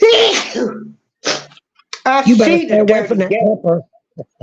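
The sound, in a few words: sneeze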